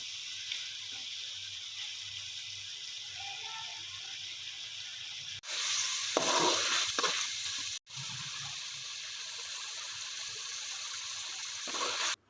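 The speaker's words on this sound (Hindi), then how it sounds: "5 से 6 मिनट के लिए जो है मैं इनको अच्छी तरह इनकी भुनाई करूँगी, भूनूंगी।" Mixed vegetables for pulao fry and sizzle in a pan, a steady hiss with a louder burst partway through as they are stirred, heard up close with no talking.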